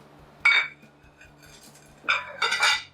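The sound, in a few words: handling knives and forks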